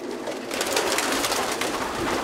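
Pet doves coo softly and repeatedly in a close, continuous murmur, several birds overlapping in a gentle rolling chorus with no talk.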